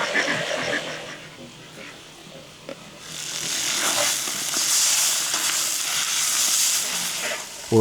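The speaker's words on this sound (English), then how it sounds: "We're almost finished with roasting the lamb." A whole lamb roasts over a cooking fire and sizzles, a soft crackle at first that swells into a steady, bright hiss of fat frying, with a few sharp pops along the way.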